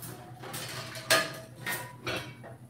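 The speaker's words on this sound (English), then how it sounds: "meanwhile, let me get a skillet together for our fish" A skillet being set up on a home stove for cooking fish: a few close metallic clanks and scrapes of pan handling, about three distinct knocks spread over a quiet kitchen background.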